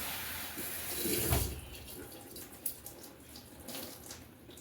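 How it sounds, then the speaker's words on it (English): Water from a tap runs steadily while hair is rinsed, a soft broad hiss that swells briefly with a splashing surge, then settles into a quieter flow with a few small splashes. "then I'm just going to rinse it"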